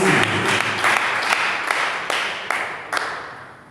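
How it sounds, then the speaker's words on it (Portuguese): A church congregation applauds during a sermon, loud continuous clapping from many hands close by with a few sharper slaps standing out, gradually fading toward the end. "Aplaudimos para o Senhor Jesus."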